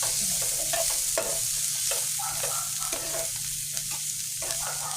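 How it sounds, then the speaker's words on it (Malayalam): Spice paste stirred into cauliflower thoran in a hot pan, with a continuous sizzle and repeated spatula scrapes against the pan in an uneven rhythm. "ഇനി ഇതിലേക്ക് നമ്മൾ തയ്യാറാക്കി വെച്ചിരിക്കുന്ന അരപ്പ് ചേർക്കാം നമുക്കിതൊന്ന് നന്നായിട്ട് ഇളക്കി യോജിപ്പിക്കാം"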